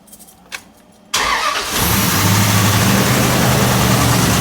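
A 4.7L engine cranks after a short quiet stretch, catches abruptly and settles into a loud, steady, rough running racket with a knocking fault, close by and without talk.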